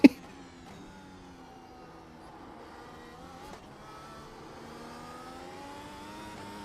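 An F1 car in the F1 25 racing game accelerates under throttle, its engine note rising steadily in pitch through the gears as a continuous whine after a brief thump at the start.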